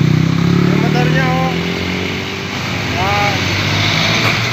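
A motorcycle with a mixed-design, kalesa-type body idles and revs steadily nearby, a low engine rumble running the whole time with people talking over it.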